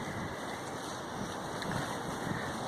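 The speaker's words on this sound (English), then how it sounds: "As you guys can hear, the wind is howling around here." Wind howls outdoors and buffets the microphone, a steady, dense roar of broadband noise with low rumbling gusts throughout, no voices.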